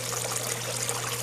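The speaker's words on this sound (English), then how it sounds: "There's a small pond water pump that cycles water through it." Water trickles steadily through a Gold Hog sluice mat on a Miller table, pushed by a small pond pump, a continuous close hiss of flowing water over a low steady hum.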